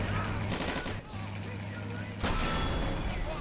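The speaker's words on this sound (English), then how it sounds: "Oh, now he's backing up. And then he shot the building." A Chaffee tank fires on a building in the Army Men: Plastic Wars video game, with steady battle noise and then a sudden loud, sharp blast partway through.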